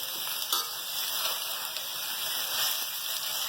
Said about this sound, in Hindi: अब हम सब्जी थोड़ी सी इसमें फ्राई करेंगे